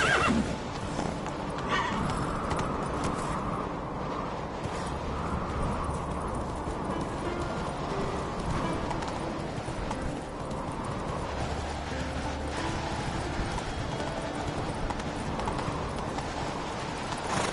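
Roach, a video game horse, whinnies loudly and then gallops with steady hoofbeats that run through the whole clip, with no talk over it.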